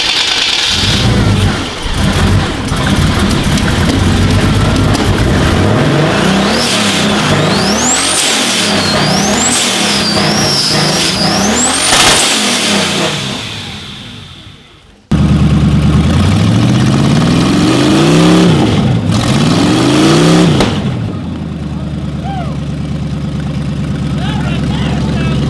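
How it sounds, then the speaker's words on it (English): Rough-idling, rich-running engine of a Mopar-powered BMW drag car with an odd-sounding flywheel, revved repeatedly in swelling pulses through a short header, loud and close, with voices talking over it and a brief cut partway through. "that flywheel's a little weird. It has like a different tone when it turns over now."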